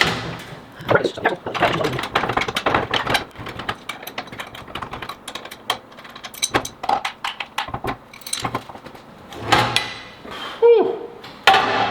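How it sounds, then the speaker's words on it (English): Metal knocking and scraping as an axle is worked out of a backup generator, a run of irregular clanks and taps up close, a few sharper hits, with brief talk near the end. "we should be able to slide the axle out"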